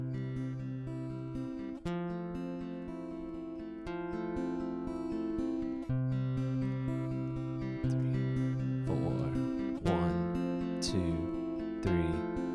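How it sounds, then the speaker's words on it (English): Pre-recorded guitar part at a slow 60 beats per minute, sustained chords changing every two seconds in a steady, even rhythm, close and moderately loud with no talking. "I've pre-recorded a guitar part, which sounds like this."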